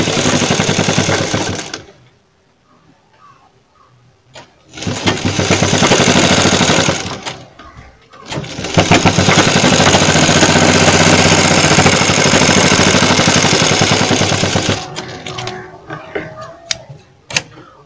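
Sewing machine stitching kurti fabric, running in several bursts of steady mechanical whirring separated by quiet pauses, with one long continuous run near the middle and lighter rattling toward the end.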